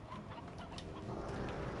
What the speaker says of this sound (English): I feel bad for the chickens and all that stuff.